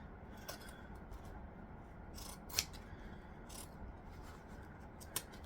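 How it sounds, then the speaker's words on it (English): Fabric scissors snip while trimming a bag lining, several quiet cuts and sharp metallic clicks spaced irregularly over a soft background hiss, with no talking. "Ignore my scissors being dramatic."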